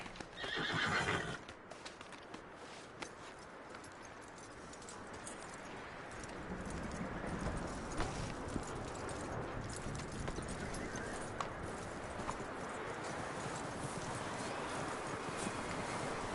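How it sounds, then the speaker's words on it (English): In a video game, a horse whinnies loudly at the start, followed by steady clip-clopping hooves over a continuous windy, rushing background. "That looks like a decent horse."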